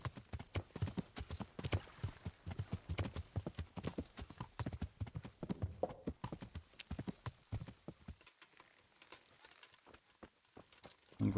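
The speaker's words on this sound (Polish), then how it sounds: "Jezu, jaki ten koń jest wolny." Horse hooves clopping in a steady, close, loud rhythm from the video game Kingdom Come Deliverance, ending in near silence with a final thump.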